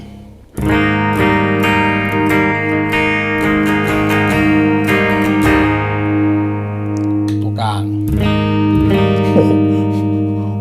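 Schecter electric guitar played on the bridge pickup, with a brisk run of picked notes and chords, bright and twangy, close and steady, easing off near the end.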